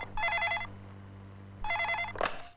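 A telephone bell rings twice in a Bollywood action film scene, each burst a bright rapid trill separated by a short pause, fairly close and alone before a faint clunk as it is picked up.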